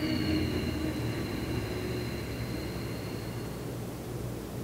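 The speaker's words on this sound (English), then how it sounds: "you create a oceanic sound, breathing in through your nostrils and out through your nostrils" Ujjayi breathing, a constricted oceanic breath drawn in and out through the nostrils, heard as a steady, close, soft rushing hiss that holds evenly and fades slightly, with no talking.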